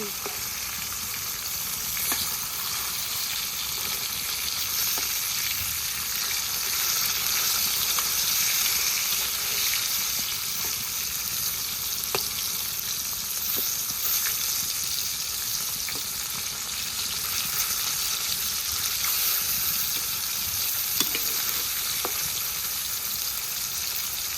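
Fresh river fish, boal, fry in hot oil with a continuous bright sizzle and occasional stirring or spattering pops. The sizzle stays steady and close throughout, with no voices over it.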